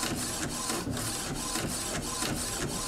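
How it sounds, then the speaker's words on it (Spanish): An HP 7110 inkjet printer runs continuously without pauses, a steady close whirring of the mechanism with regular rhythmic carriage passes roughly every half second, no voices. "quiere decir que tiene tinta y que está imprimiendo bien"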